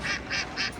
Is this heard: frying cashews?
no